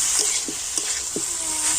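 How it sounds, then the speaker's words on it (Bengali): Boiled potato is stirred with spices in a hot pan, a steady sizzle running underneath while a few scraping stirs of the spatula come through at irregular intervals. "তো এখন আমি সিদ্ধ করে আলুটা এই মশলার সাথে দিয়ে দিচ্ছি। তো মশলার সাথে আলুটা আমি একবার এইভাবে কষে নেব।"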